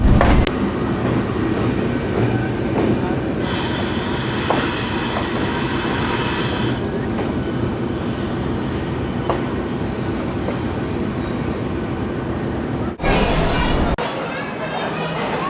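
A passenger train rumbles steadily along the rails in heavy rain in the early morning, wheels squealing at a high pitch for several seconds, with loud continuous rolling noise throughout.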